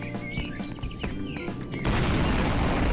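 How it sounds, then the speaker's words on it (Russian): An explosion in the Roblox Jailbreak video game arrives after scattered clanks and knocks, with a sudden loud, rumbling blast that holds at full strength to the end. "Опять что-то взрывает."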